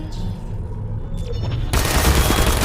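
A turret in Portal 2 opens up after a quieter stretch: a sudden loud, sustained burst of rapid gunfire that carries on to the end.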